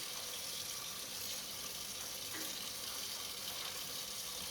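Dye-soaked tie-dye shirt squeezed out, releasing a steady rush of running, dripping water, as if over a sink, continuous and moderately quiet without pauses or voices.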